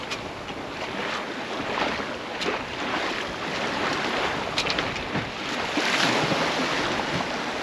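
A sailboat pushes through a tight, choppy swell in the Raz Blanchard tidal race on the passage between Cherbourg and Diélette. Rushing water and wind noise form a steady, dense wash with small splashes throughout.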